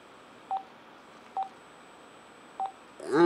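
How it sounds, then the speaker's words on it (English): Three short, separate telephone keypad beeps sound at uneven intervals over a quiet background, followed by a voice starting to speak. "I'm dialing"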